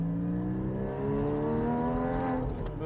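A Porsche Boxster/Cayman engine hums and revs in second gear, pitch rising steadily under load, then easing off as the shift begins near the end; heard from inside the car.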